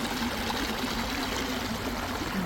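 Water streams steadily through a natural irrigation canal feeding date palms in the AlUla desert oasis, Saudi Arabia, a continuous close rushing trickle with no talk.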